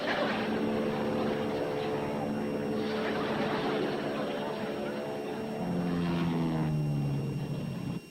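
A small propeller plane dips its wings while flying low overhead, its steady engine drone continuous and fairly loud throughout, with a falling pitch near the end as it passes.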